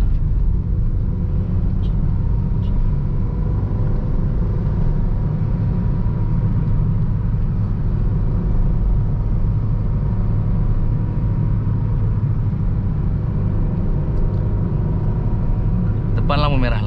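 A manual car pulling away as the clutch is lifted with throttle and the handbrake released, a steady low engine and road rumble throughout while someone talks over it.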